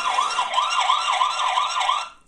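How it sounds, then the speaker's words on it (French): A XiaoVV Q12 budget security camera's built-in alarm siren sounds loud and close, with a steady warbling wail that rises and falls about five times before cutting off and fading. "Et activer la sirène d'alarme."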